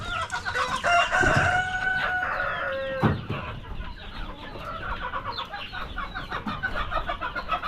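A rooster crows loudly nearby, followed by clucking Darag chickens and other fowl calling in the background of a farmyard.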